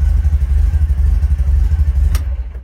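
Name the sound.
1965 VW T1 camper engine running after cold start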